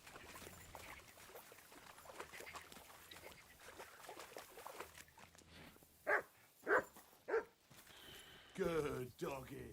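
A dog in Kingdom Come Deliverance 2 lets out several sharp, loud barks or yips near the end, following a stretch of busy game ambience with talk underneath.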